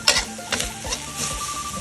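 Spicy paddy frog stir-fries in a wok, with a steady sizzle broken by quick rhythmic scrapes and clacks from the spatula tossing the food, close and fairly loud.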